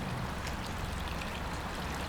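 Water flows steadily into the Lybid river in Kyiv near Promyslova Street, a constant low rushing and trickling stream, close and even, with no voices.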